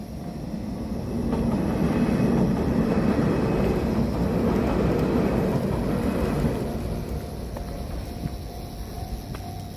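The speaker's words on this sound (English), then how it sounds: "See the train going by" A short local train passes along a countryside line in Japan, its rumble and wheel clatter rising to a broad roar, then fading away, heard close by with no talk.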